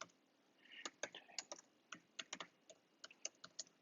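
Someone types on a computer keyboard, soft key clicks coming in quick irregular bursts close by, faint and with no voices.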